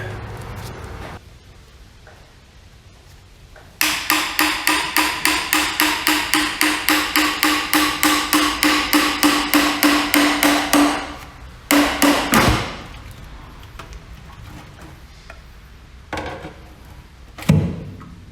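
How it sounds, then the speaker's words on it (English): Rapid series of sharp metallic hammer blows on the oil pan of a Kubota-powered wood chipper engine, about twenty in quick steady rhythm, followed by a few scattered louder strikes after a pause. "A hammer or something."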